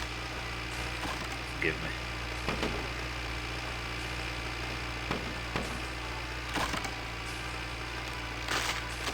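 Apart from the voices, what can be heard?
tractor engine noise from video game My Winter Car, modded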